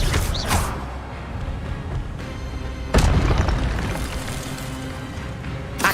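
A spell is cast in the Hogwarts Legacy video game, heard as a loud booming magical burst and whoosh, followed by a second heavy impact midway, over a dense, continuous rumbling game soundscape with no speech.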